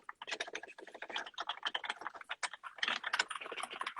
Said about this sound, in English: Clickety clack, typing on my loud keyboard.